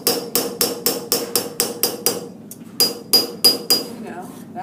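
A hammer strikes an annealed metal blank in a steady series of about a dozen sharp, ringing blows, close and loud, with a short pause midway.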